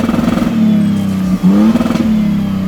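A Toyota Sequoia TRD Pro SUV with a 3.5-liter twin-turbo hybrid V6 engine accelerates, its engine note rising and falling in a steady loud drone with a brief gear-change dip, close by with no talking.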